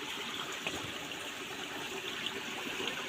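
A mountain stream on Girnar mountain flowing steadily, a soft continuous trickle and rush of water heard from nearby at low level, with no talking.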